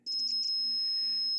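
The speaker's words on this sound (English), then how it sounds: "this is a dead short circuit between the two sides. And that is why it beeps." An electrical continuity tester signals a dead short circuit. A few quick high beeps run into a steady, sustained tone.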